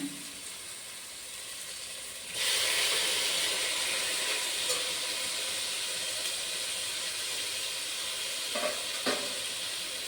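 Two medium tomatoes hit hot oil in a pot, and a loud, steady hiss of frying starts suddenly and holds. A couple of brief stirring knocks come near the end.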